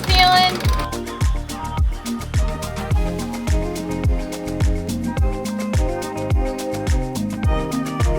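A sailboat winch is cranked by hand close up, giving a steady rhythmic run of ratcheting clicks and whirring pulls, each turn repeating at about the same pace.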